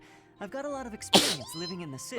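A single sharp sneeze from a character in the Fire Emblem: Three Houses video game bursts out loudly in the middle of game dialogue, with spoken lines before and after it.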